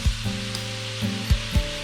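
Sliced yellow onions sizzle in a tablespoon of butter in a Dutch oven over medium heat, a close steady hiss broken by several soft thumps and scrapes as they are stirred.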